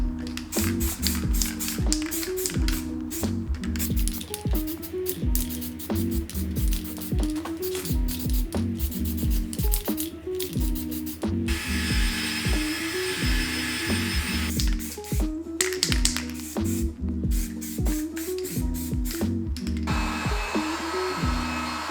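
Spray cans hiss steadily as they lay down plastic primer and gloss black paint, in long close bursts over a constant droning motor hum, with no talking.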